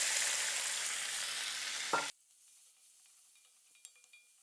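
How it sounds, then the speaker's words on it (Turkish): Garlic, onions and peppers fry in a pan for a Turkish sautéed beef dish. A loud, close, steady sizzle cuts off abruptly about halfway through, leaving near silence with a faint tap. "Şimdi birkaç dakika kavurdum. Şöyle sarımsakların, bakın soğanların dışları kızarmaya başladı. Artık renk değişmeye başlayınca biberleri de alıyorum içine."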